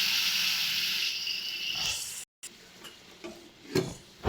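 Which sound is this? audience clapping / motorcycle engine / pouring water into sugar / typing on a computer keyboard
pouring water into sugar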